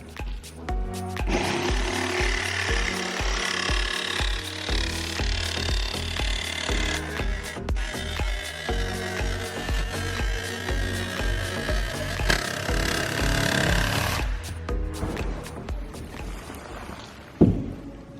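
A power tool blade cuts steadily along a traced line through a workpiece, giving a loud, continuous rasping buzz close by that cuts off near the end, followed by a sharp knock.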